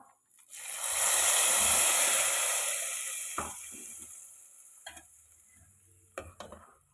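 A loud burst of sizzling as fried mustard seed tempering hits a pan of papaya erissery, hissing strongly then slowly fading, followed by a few clinks and stirring scrapes.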